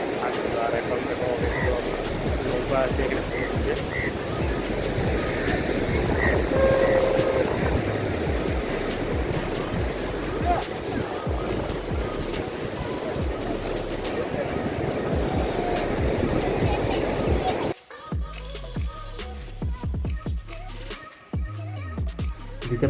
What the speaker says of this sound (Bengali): আর চারিদিকে তোমার ঢেউ।